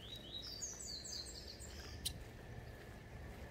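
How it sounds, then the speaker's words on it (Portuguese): A small bird sings a series of high, quick chirping phrases, fairly faint against a steady background hiss, with one brief sharp click midway. "O passarinho tava cantando muito"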